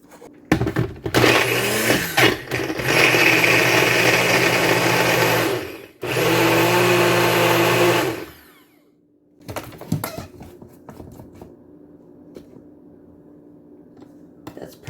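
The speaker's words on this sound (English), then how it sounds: "Let's take this to the blender." Blender whirring loudly as it blends frozen or fresh strawberries into a milkshake, running in two long bursts with a brief pause between, then stopping to quiet handling noise.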